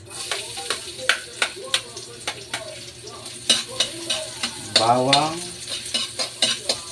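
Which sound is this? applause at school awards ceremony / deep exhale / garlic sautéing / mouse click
garlic sautéing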